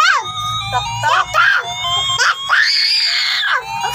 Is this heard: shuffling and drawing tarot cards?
no